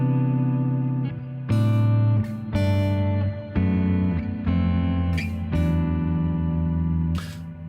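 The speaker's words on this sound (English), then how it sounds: "this is just like a clean sound with like lots of reverb" Clean electric guitar drenched in reverb, a series of plucked chords and notes ringing out and overlapping with long lingering tails, played alone at moderate volume.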